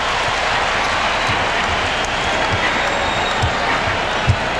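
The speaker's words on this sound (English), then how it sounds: "The crowd erupts, and so does Michael, as Judd Buechler cans a three." A basketball arena crowd roars after a made three-pointer in an NBA Finals game between the Bulls and Jazz, a loud, sustained wash of cheering and applause.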